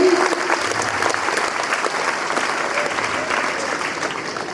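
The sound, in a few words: audience applauding for the martyr's mother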